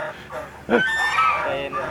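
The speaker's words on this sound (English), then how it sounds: "Oh, we got geese. Hello, big geese." A goose lets out a loud, close honk that trails into a drawn-out, nasal call, with quieter honking before it.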